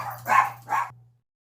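A pet dog barks indoors: two sharp, close barks about half a second apart, followed by a brief fading whine, alone with a low steady hum beneath.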